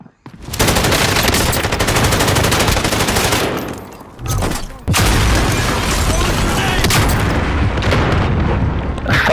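Heavy incoming gunfire in a video game: dense, loud, continuous machine-gun bursts with booming impacts, a brief lull near the middle, then the barrage resumes, with voices shouting underneath.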